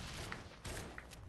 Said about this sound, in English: Oh, I'm getting shot.